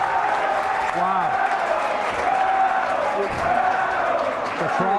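A home crowd roars and applauds steadily at a high school basketball senior night, Medfield against Dover-Sherborn, while commentators keep talking over the noise.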